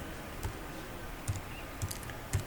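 Keyboard typing a FORTRAN script, with four sparse separate key clicks spaced unevenly, close and light over a quiet room hum.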